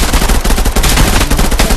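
Rapid automatic gunfire from the VR shooter Contractors Showdown on Quest 3, a loud, dense, continuous burst of shots with no pause across the whole short stretch.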